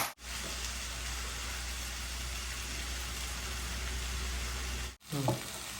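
Okra stir-fry with chili powder and a little sugar sizzles steadily in a pan over low gas, a constant close frying hiss with a low hum beneath and a brief clatter at the end.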